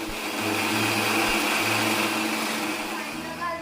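A mixer grinder runs loud and steady, grinding a spice paste with coriander for a traditional Bhogi vegetable dish, its whirring motor filling the whole stretch with a slight pitch shift near the end.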